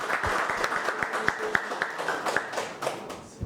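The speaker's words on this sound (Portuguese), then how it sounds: "Salva de palmas." Audience applause at a municipal council ceremony presenting a motion of praise, a dense crowd clapping with scattered sharper individual claps throughout, steady and fairly close.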